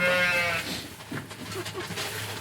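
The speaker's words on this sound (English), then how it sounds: "So this one is probably my favorite baby goat right here." A baby goat in a greenhouse lets out one loud, wavering bleat up close, followed by softer rustling and faint animal sounds.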